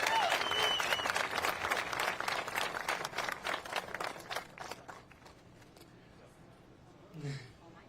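Outdoor crowd at the Gordie Howe International Bridge opening ceremony applauding loudly for several seconds, then the clapping fades to quiet with a short voice near the end.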